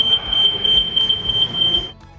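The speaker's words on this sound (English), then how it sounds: "The buzzer should sound." A tilt-sensor buzzer on a Haulotte MEWP scissor lift sounds as a continuous high-pitched electronic tone over a low rhythmic machine hum, cutting off sharply near the end.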